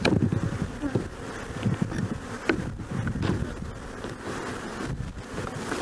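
Honeybees buzz steadily around an open hive during an inspection, a dense, continuous drone close by with a few brief knocks and light wind noise on the microphone.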